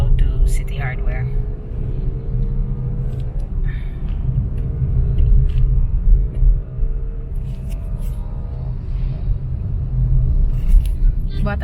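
A car drives along a provincial road in Liloan, Cebu, its engine and road rumble steady and close throughout, with a few brief clicks and knocks on top.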